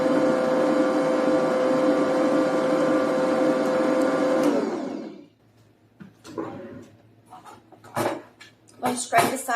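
An electric mixer whirs steadily, beating butter for a 1970s strawberry gelatin cake, then cuts off after about five seconds, leaving quiet kitchen clatter and a voice talking.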